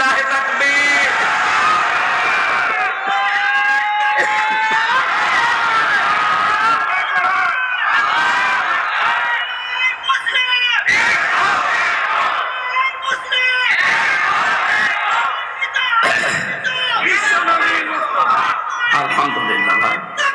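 A large crowd at a religious gathering roars in sustained unison, loud and dense throughout, with many voices shouting together after a call.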